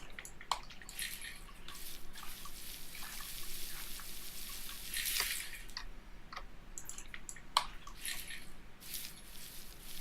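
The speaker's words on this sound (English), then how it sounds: "So give it a good shake up, empty out the water" Gold panning simulated in the video game Gold Rush, with soft water sloshing, trickling and dripping as a pan is shaken and emptied, several splashy bursts and drips over a steady watery background, fairly faint and with no voices.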